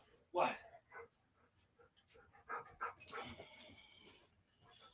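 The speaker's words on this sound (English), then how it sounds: "She picked perfect timing to start barking and acted like a nut." A dog barks indoors in a few sharp bursts, mixed with a person talking nearby and some clattering household noise.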